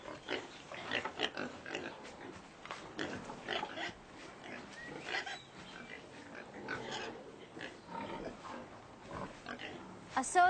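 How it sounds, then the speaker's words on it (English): Pigs on a farm grunting and oinking in repeated short bursts close by, with people talking over the animal noise throughout. "These are the pigs."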